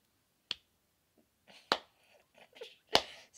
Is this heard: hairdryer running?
no